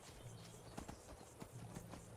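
A horse trots in Skyrim, steady clip-clop hoofbeats, fairly faint and evenly spaced under a soft ambient game background, with no talking.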